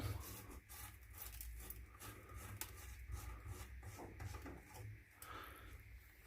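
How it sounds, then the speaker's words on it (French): Plastic sink drain trap under a bathroom washbasin being unscrewed by hand, a dry scraping, rubbing rasp of threads and plastic against wood cabinet, continuous and close with small knocks, no voices. "on va dévisser le siphon, comme je vous ai dit, en le dévissant par là"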